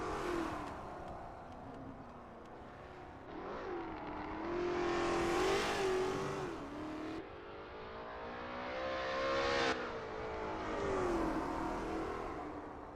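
Lola T70 MkII Spyder race car at Bathurst, the engine revving hard through rising and falling gear pulls, loud and continuous with sharp shifts between gears.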